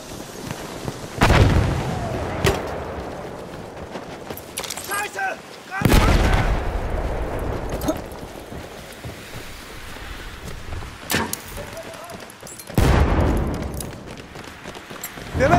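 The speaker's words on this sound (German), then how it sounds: "Ich werfe eine Granate!" Heavy grenade explosions and gunfire in a Battlefield 1 conquest battle in the Argonne Forest, with three or four big booming blasts spaced through the clip amid scattered shots and shouting voices.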